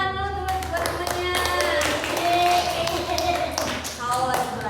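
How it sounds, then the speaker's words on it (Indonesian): Students in a classroom clap for their classmates, a scattering of sharp claps mixed with children's voices chattering and calling out over the top. "Beri tepuk tangan dulu teman-temannya."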